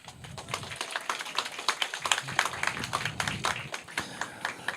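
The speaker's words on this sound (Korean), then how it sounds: "박수 한번 치세요" An audience applauds at a Liberty Unification Party ceremony in Incheon declaring a parliamentary candidacy for the Gyeyang district: a steady stream of many overlapping claps, lively and irregular, moderately distant, with no talking over it.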